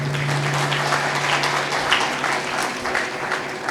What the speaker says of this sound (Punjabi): ਤਾਲੀ ਮਾਰੀਏ ਜ਼ੋਰ ਦੇ ਨਾਲ।